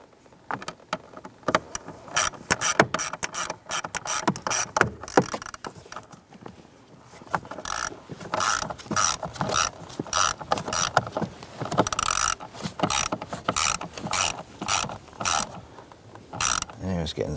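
Screws being snugged into a 2006-2013 Chevrolet Impala heater blower motor with a fan cage, heard as close clicking and ratcheting tool sounds in irregular bursts with clunks and handling noise.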